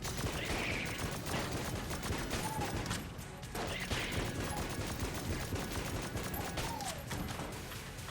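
Rapid gunfire from a room-clearing gun in the video game Enter the Gungeon, a dense steady barrage of shots with crashing impacts that runs almost without pause, briefly dipping around the midpoint.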